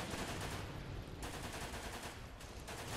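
Pistol gunfire in the video game Running With Rifles, a steady dense stream of shots and battle noise filling the scene continuously at moderate loudness with no pauses.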